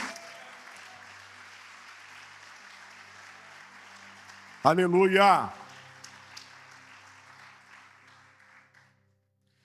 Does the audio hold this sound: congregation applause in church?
yes